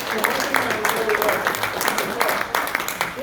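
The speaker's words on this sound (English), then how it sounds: "Everybody give them a round of applause." A class audience gives a round of applause, brisk and fairly loud clapping with a crowd's mixed rhythm throughout, with faint voices underneath.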